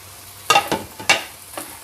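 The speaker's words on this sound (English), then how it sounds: "We need to keep mixing it on low flame." Dry fruits for homemade granola stirred in a pan over a low flame, a few distinct scraping strokes spaced about half a second apart against a quiet background.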